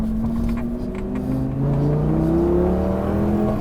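A Lamborghini Gallardo accelerates hard on a road course, its engine note climbing steadily in rising harmonic sweeps through the gears, loud and close-miked from inside the car with constant roar throughout.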